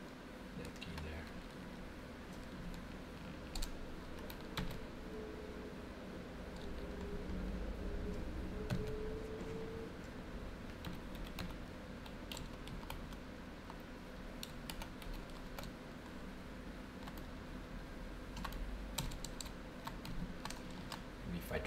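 Keys clack steadily on a computer keyboard in a long, close, uneven run of taps while someone speaks at times over the typing.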